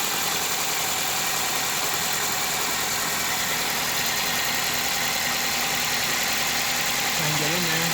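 A 2002 Subaru Impreza WRX with a turbo-back exhaust idles roughly with one cylinder disabled, a steady, uneven engine rumble close by, with a voice speaking briefly near the end.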